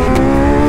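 A racing motorcycle rides around a track during a race weekend, warming its tires and brakes. It gives a loud, steady engine drone with a strong buzzing tone, holding close and constant throughout the short burst.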